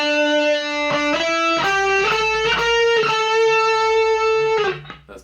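Distorted electric guitar plays a shred riff from a lesson piece, sustained fuzzy notes stepping up and down with a few picked accents, loud and close, fading out at the end.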